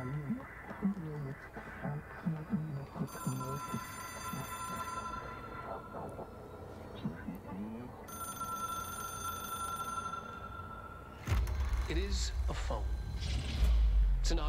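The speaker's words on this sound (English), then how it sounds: "I can still hear the phone ringing!" In the video game Control, a telephone rings in a steady repeating pattern through two long bursts. It sits under a person talking and shifting ambient noise, and a deep rumble swells near the end.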